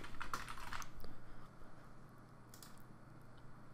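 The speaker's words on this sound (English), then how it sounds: "go over to the Cortana search menu and type in Control Panel" Keys clatter on a computer keyboard in a quick burst during the first second, then a few lighter, scattered keystrokes follow over a quiet room background.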